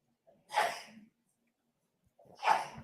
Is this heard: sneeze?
yes